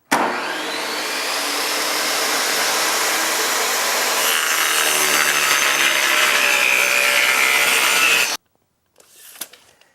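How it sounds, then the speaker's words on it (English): A table saw cuts a rabbet in a wooden bookcase piece: a loud, steady whining cut sustained for about eight seconds, then the blade stops and the saw falls nearly silent, with a faint clatter after. "let's go ahead, make it safe, and cut some wood"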